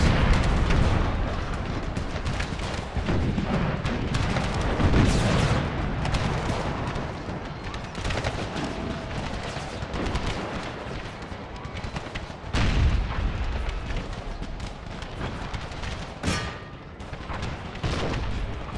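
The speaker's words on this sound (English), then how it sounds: "We're going to see the percussive shell in action now." Artillery firing percussive shells in the video game Empire: Total War, American Civil War mod, with repeated deep booms and crackling gunfire over a dense rumbling battlefield din.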